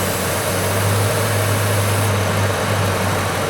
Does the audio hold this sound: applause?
no